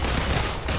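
A dense, continuous burst of rapid electronic gunfire, loud and steady for under a second: red laser shots from a robot girl in Marvel Avengers.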